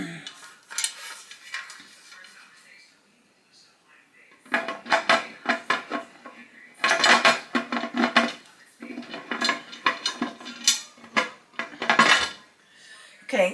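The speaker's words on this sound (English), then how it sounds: "so now I'm going to put the lid on." A metal lid on a home pressure canner filled with jars of soup clanks and scrapes in several bursts of clattering metal contact as it is fitted and twisted into place, with quiet pauses between.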